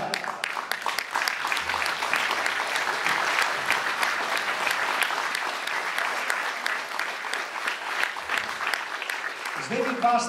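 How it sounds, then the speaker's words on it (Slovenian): A crowd at a charity jubilee church concert claps for the two hosts, sustained lively applause filling the hall for about ten seconds, with a brief voice or instrument creeping in at the very end. "dajmo tudi en aplavz za tile dva voditelja"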